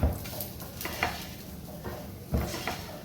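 Masala dosa frying on a hot pan as oil is poured around its edge, a steady soft sizzle with light scraping and stirring clicks, close and moderately quiet.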